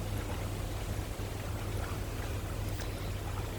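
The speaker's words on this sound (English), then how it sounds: "while it's flowing, all the creek's flowing, it looks good" Creek water flowing steadily near a small pond, a continuous broadband rush with a low rumble throughout, close and even with no talk.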